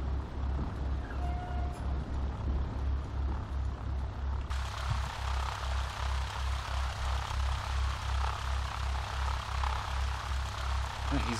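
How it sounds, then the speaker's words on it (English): A Learjet rolls down the runway in the FSX flight simulator, its jet roar swelling into a loud, steady broadband rush after a few seconds, over a pulsing low engine drone from the player's own propeller aircraft. "We'll let that Learjet take off, and then we'll head out of here."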